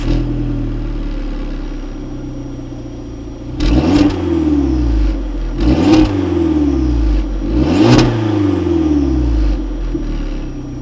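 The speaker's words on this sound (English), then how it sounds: "the turbo builds, you can hear it whirring away as you're going" Alfa Romeo Giulietta with its turbo whirring as the car accelerates hard, engine rumble climbing through three strong surges of revs with gear changes between them, close and loud with no talking.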